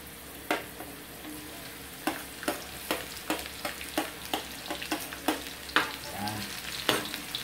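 Garlic fries in a pan for gizzard adobo, a steady sizzle broken by repeated sharp scraping taps of a utensil stirring, roughly one every half second.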